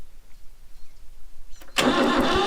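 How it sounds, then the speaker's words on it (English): An old preheated tractor engine is cranked after a quiet stretch, then abruptly catches and runs with a loud, dense, steady roar close by. "So if I just try and start it like that,"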